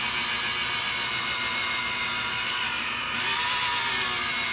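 A car paint polishing machine works freshly wet-sanded spray paint at up to 600 RPM, giving a steady, close, continuous whir that swells slightly near the end.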